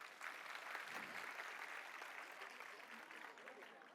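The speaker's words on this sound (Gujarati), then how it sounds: "તાળીઓના ગડગડાટથી" Faint, continuous applause from an audience at a school Navras 2024 cultural show, a soft, even patter that holds steady throughout, heard from some distance.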